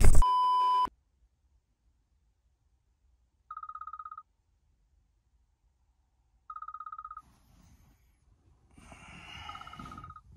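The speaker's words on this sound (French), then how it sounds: "Le réveil." Alarm clock beeping in short electronic bursts, a loud opening tone followed by two evenly spaced beep trains in near silence, then a final burst under rustling and movement.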